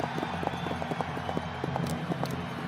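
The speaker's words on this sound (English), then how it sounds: "There was a chariot race, horses pulling two-wheel carts at a breakneck speed." Rapid rhythmic hoofbeats clatter steadily, several horses galloping together pulling two-wheeled chariots in a race, over a constant rumbling background.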